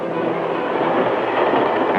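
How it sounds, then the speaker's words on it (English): The Southern Pacific Daylight streamlined passenger train rolls past with a loud, steady rushing roar and faint rhythmic wheel clatter, continuous throughout. "Southern Pacific's swift, streamlined daylight. Most beautiful train in America."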